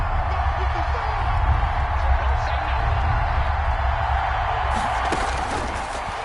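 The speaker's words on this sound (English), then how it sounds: "The crowd getting into it as we come up on a big third down." A football stadium crowd at an Eagles versus Cowboys game roars steadily before a big third down, a dense, loud, continuous din that holds throughout and swells slightly near the end.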